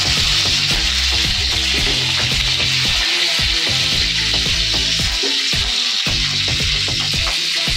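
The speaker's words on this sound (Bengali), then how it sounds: "এরপর আমি তেলের উপরে কালো জিরে দিয়ে দিচ্ছি আর কাঁচা লঙ্কা" Black cumin and green chillies fry in hot mustard oil with a loud, close, continuous sizzle full of rapid spitting crackles and pops, with no voices.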